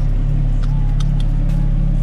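A Porsche car pulling away, a loud, close engine rumble with steady low drone and a slight rise in revs, with faint knocks in the cabin.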